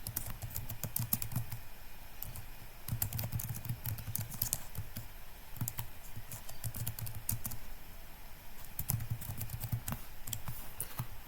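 Keys clatter on a computer keyboard as a group name is typed into a Microsoft 365 setup screen, with steady bursts of keystrokes separated by short pauses and a low background hum.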